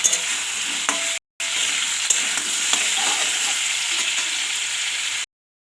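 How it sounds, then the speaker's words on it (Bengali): Water spinach greens fry in a pan for a vegetarian chorchori, a dense continuous sizzle close by, broken by a short silent gap and a few faint stirring clinks, with no talking. "এটা ততক্ষণ ভাজা হতে থাক"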